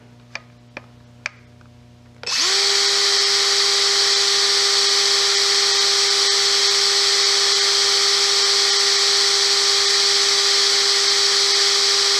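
Electric drill whirs up after a few faint clicks, then runs steadily at high speed with a sustained whine that carries on alone until the end, loud and close.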